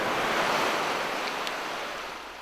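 Waves break and wash steadily on a seashore at a wild camping spot, a broad, close rush of surf that fades slightly toward the end. No one speaks.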